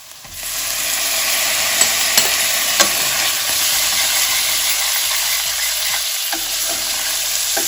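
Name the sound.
stirring raisins and pineapple into frying korma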